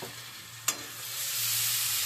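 Water goes into a pan of frying spice paste and fried potatoes for an egg curry. A sharp splash and clatter gives way to a steady, swelling sizzle as the mixture is stirred up close.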